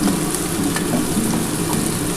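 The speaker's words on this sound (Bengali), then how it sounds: "এটা কিন্তু আলু দিয়ে ভাজছি" Spiny gourd (kakrol) and potato pieces fry in white oil with a loud, close, steady crackling sizzle and light stirring throughout.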